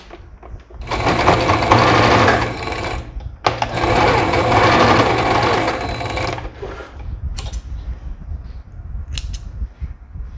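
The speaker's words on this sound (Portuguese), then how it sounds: "costurei aqui com uma costura reta" Sewing machine running a straight seam to tack a facing at a neckline, heard as two steady, close stitching bursts of about three seconds each with a brief pause between, then quiet handling afterward.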